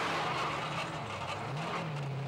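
Onboard engine roar from the Bigfoot monster truck in a straight-line drag race, a loud, steady, rising drone with no talk.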